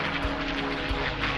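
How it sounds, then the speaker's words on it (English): Steady, loud, close roar of a 12-cylinder aircraft engine as the plane passes by, a dense continuous drone with a slight rhythmic pulsing throughout. "This engine, the 12-cylinder one that's roaring in there, even when starting, it gives you a thrill"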